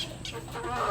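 A Sweater-breed hen clucking softly in short bursts, with faint background backyard farm noise throughout.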